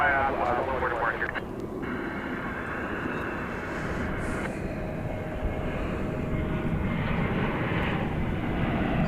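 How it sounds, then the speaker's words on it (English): An Airbus A321 jet arriving at DFW airport roars steadily as a loud, continuous engine rumble, with radio-like voices talking over it. "1534 arriving from Seattle, an Airbus A321"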